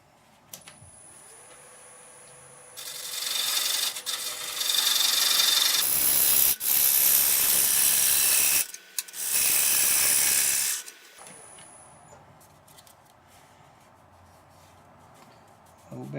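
Madrone wood spinning on a wood lathe as a cracked saucer is cut down, giving a loud, steady rushing scrape that comes in two long passes and stops between them, with quieter machine hum before and after.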